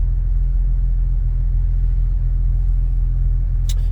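A 2000 Jeep Wrangler Sahara engine idling after a cold start, a loud, steady low rumble heard up close with an even, unbroken drone and a brief faint chirp near the end.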